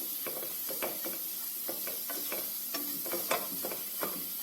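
A spoon scrapes and taps in a pot as flour is stirred on low heat for a Turkish flour soup, giving soft, irregular clicks and scrapes in a quiet kitchen with no voices.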